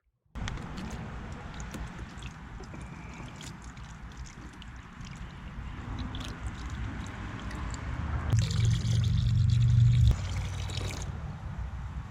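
Steady pouring of BMW coolant into a BMW E28/E30 cooling system, a trickling, gurgling flow that swells louder and fuller near the end before easing off, no talking.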